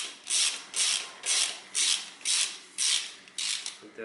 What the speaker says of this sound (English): I can open this bolt in here